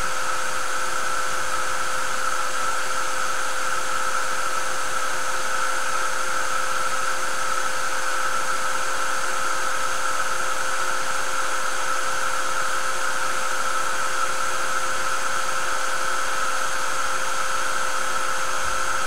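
A heat tool blows a steady, loud whirring stream of hot air over a mixed media layout, a continuous hum with a high whine that holds evenly from start to finish.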